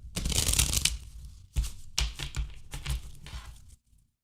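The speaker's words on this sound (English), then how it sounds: "I'll pick a card for you, and that'll help a little bit. I'll shuffle." A deck of cards is shuffled up close in several quick riffling bursts, with a short pause before the later ones; no one speaks.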